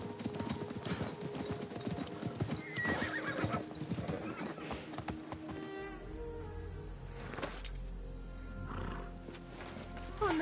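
In the video game Assassin's Creed Mirage, a horse neighs loudly amid clopping hooves and scattered bird calls, followed by a low rumbling tone and another whinny near the end.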